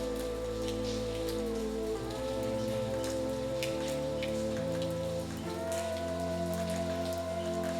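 Rain in the PC adventure game Lucy Dreaming, a continuous patter with scattered sharper drops, heard under sustained tonal background music that shifts between held chords.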